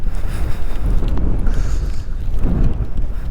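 Wind buffets on a hilltop along an offroad track, a loud gusty roar with low rumbling surges that rise and fall over a few seconds.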